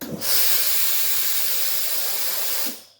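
A Philips Series 8000 PSG8040/60 steam generator iron lets out a single loud, steady hiss of steam lasting about two and a half seconds, close up and alone, then cuts off sharply.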